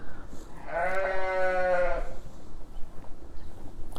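A sheep in a lambing pen lets out one loud, wavering bleat lasting about a second, and quieter farm noise fills the rest.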